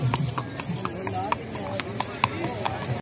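A horse giving a ride at Daman-e-Koh in Islamabad, its hooves clip-clopping in a steady close rhythm on hard ground, with voices talking over it.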